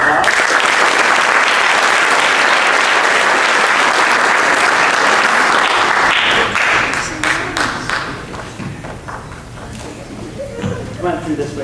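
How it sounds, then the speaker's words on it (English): A high school senior awards ceremony audience breaks into loud, sustained applause for the class valedictorian, then the clapping thins to scattered claps and murmuring voices. "Please give them a round of applause."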